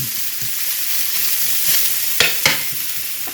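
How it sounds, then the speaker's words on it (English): Bacon frying in a hot pan gives a steady, loud hiss of sizzling fat, broken by a couple of sharper pops and crackles near the end, close up with no talk. "my pan is hot, hot, hot. We're going to put our bacon in there. And just cook it up till it's done."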